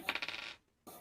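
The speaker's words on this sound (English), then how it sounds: "Just roll them and add them to your health." Dice clatter and tumble across a tabletop during a tabletop role-playing session, a quick rattling burst of small hard knocks that stops abruptly, then one more short click.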